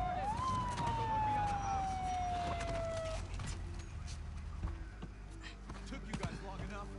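A police siren wails in a steady falling tone at first in Uncharted 4, followed by game-like background noise and scattered thumps, with people talking throughout.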